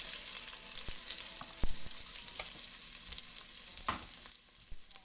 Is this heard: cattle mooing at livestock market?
no